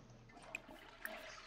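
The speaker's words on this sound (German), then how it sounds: "So, die Toilette verwenden." A toilet flushes in The Sims 4, the life-simulation game, a soft watery rush with a couple of bright chiming accents, quiet and without talk.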